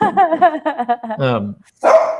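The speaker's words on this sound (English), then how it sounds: "He's barking at a door, though." A dog barks at a door indoors at home, a run of sharp harmonic barks close by, with a brief pause and another bark near the end.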